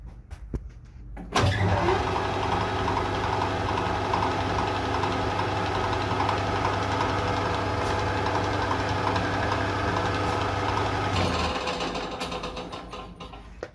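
A lathe-type machine spinning at 800 RPM while cutting new parts for a Companion stove repair, a steady mechanical hum and whir that starts abruptly, runs evenly for about ten seconds, then winds down, close by.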